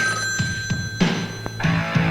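A telephone rings in repeated bursts, a bright bell-like tone over a low hum and scattered background noise.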